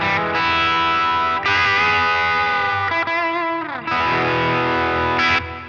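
Electric guitar through a Line 6 Helix Teemah overdrive model, loud crunchy strummed chords that ring and sustain with a brief pause between, close and alone.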